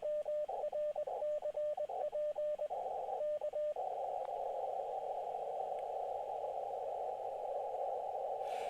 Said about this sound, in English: we're still calling CQ, parks on the air, doing Morse code